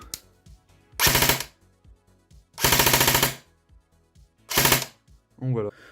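Three rapid full-auto bursts from a stock Specna Arms MK18 airsoft rifle, each about half a second, separated by pauses, with a brief mechanical whir at the end.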